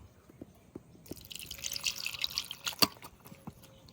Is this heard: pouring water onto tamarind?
yes